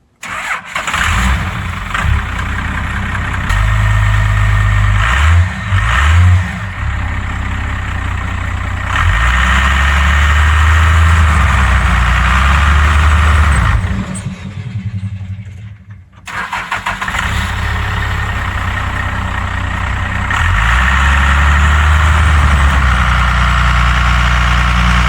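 A farm truck engine idles steadily and loudly at close range, with a deep low rumble that briefly drops out near the middle and then resumes running. No voices can be heard.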